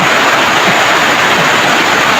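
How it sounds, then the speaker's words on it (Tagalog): Heavy rainwater pours and splashes continuously from a roof gutter in a loud, dense rush, cascading like a waterfall, with no other sounds. "Yung alulod natin mga kapamers, parang falls na"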